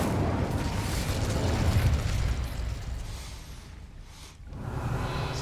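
The Incendio fire spell cast in Hogwarts Legacy, a dense roaring whoosh of flame that swells and holds, dips briefly, then rises again.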